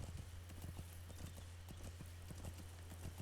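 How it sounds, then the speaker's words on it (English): A horse gallops in Metal Gear Solid 5: The Phantom Pain, rapid rhythmic hoofbeats drumming steadily throughout over a low droning game ambience, fairly faint and without speech. "This game also has horses"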